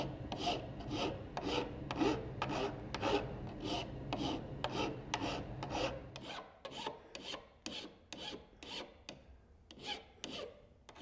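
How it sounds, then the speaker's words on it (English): A hand file rasps back and forth across the ends of a homemade metal bevel tool, rounding them off in steady, evenly spaced strokes, close and fairly quiet, with no voices. "use my file and round those two ends off"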